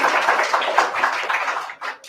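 An audience claps at the Accendo 2022 event: a sustained, lively round of applause from many hands that thins out and fades near the end.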